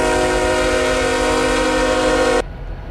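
A diesel freight locomotive horn in the Roblox game RO-Scale Sandbox, part of a set of Canadian freight trains, blares one loud, steady multi-tone chord for about two and a half seconds, then cuts off abruptly into quiet background hiss.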